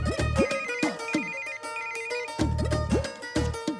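Repeating electronic ringtone chiming from a phone receiving a call from a private number, a looping melodic pattern with sharp tonal hits, loud and close with no talk over it.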